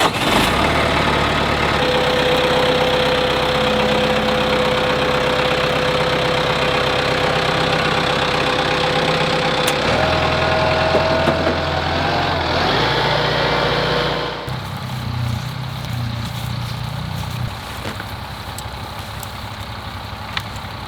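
A tractor engine runs steadily while grading ground on a homestead, a loud, continuous mid-pitched drone with shifting load, then dropping to a lower, rougher idle near the end.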